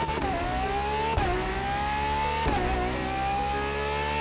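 Ferrari LaFerrari V12 hybrid supercar in The Crew Motorfest racing game, engine climbing steadily in pitch through rising revs with brief dips at two quick gear shifts, loud and close.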